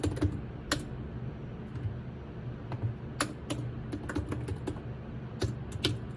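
Keys on a computer keyboard clack in quick irregular bursts nearby as a command is typed, crisp separate taps over a low room hum with no talk.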